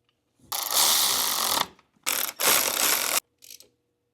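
A ratchet runs spark plug coil bolts down on an engine, giving two long bursts of rapid close clicking and a brief final burst, loud and alone with no talk.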